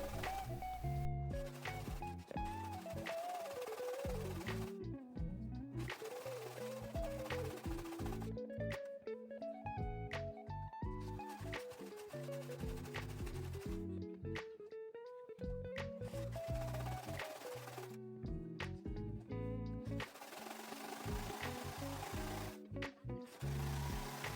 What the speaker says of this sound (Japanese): 見返しの脇の縫い代を割って見返しの端全体にロックミシンをかけます。